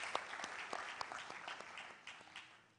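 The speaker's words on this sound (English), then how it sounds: "Please, another round of applause for Mr. Alfred Adiobo." Scattered applause from an audience at a student mentorship session for a national science quiz, faint and thin, with individual claps standing out over a low background.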